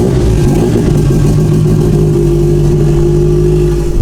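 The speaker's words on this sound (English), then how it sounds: "this car sounds like absolute trash because open downpipe right now" A car with an open downpipe runs with a loud, rough, droning exhaust note that holds steady and close throughout, with no talking over it.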